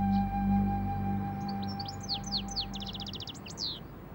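Small birds chirp and twitter among overgrown city ruins, a quick run of bright, rising trills and short repeated notes over a faint steady hum, fairly close and clear for a few seconds.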